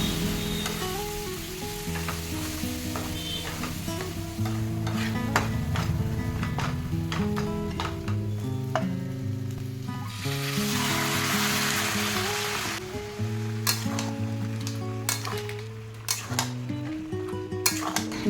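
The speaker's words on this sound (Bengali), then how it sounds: "মশলাগুলো কষিয়ে নিই।" Ground spices, spice paste and salt sizzle and fry in a pan for a village-style Bengali vegetarian jackfruit curry, with continuous hissing, repeated scraping and clinking of a spatula against the pot, close and steady throughout.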